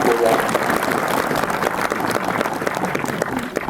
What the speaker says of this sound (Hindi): मैं चाहता हूँ इनको जोरदार तालियों से इनका बिल्कुल वेलकम किया जाए।